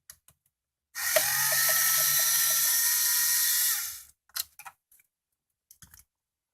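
A ratchet tool removes screws from the radio of a 1995–99 Subaru Outback: one steady, loud mechanical whir lasting about three seconds, followed by a few light clicks and taps nearby.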